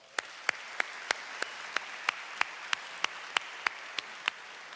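Evenly spaced claps ring out at a school recognition ceremony, about fifteen sharp hand claps in a steady rhythm roughly three per second over a low room hum.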